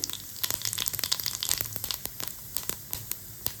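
Mustard seeds and cumin hit hot oil in a pan, giving a dense, crackling sizzle with rapid pops and spits throughout, close and fairly loud, with no talking.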